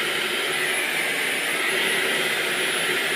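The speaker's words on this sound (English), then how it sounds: "Your hairdryer, make sure you've got the nozzle on" A hairdryer with nozzle attached blows continuously with a steady, loud whooshing hiss from start to end, close up.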